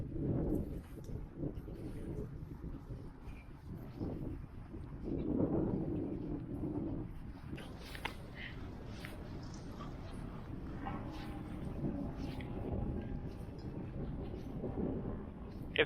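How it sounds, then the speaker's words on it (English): Low, rumbling wind buffeting the microphone on an empty Montreal street, steady throughout with gusty surges, covering the background in a muffled roar. "If you guys are picking up some noise from the wind, it's a very windy day today."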